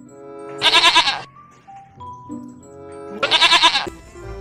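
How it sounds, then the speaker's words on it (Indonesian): Goat bleats from an animal battle video game, two loud wavering calls about three seconds apart with quieter game tones between them. "Ini ada kambing"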